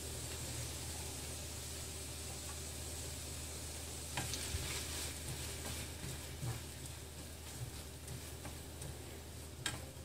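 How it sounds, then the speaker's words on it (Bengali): Chopped onions fry in a pan with green chilli added, giving a steady soft sizzle with occasional ticks and light scraping, faint and continuous with no talking. "2 টেবিল চামচের মতো পেঁয়াজ কুচি ভেজে নেব"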